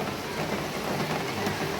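Steady rain pours down in an even, dense hiss with no breaks and no voices.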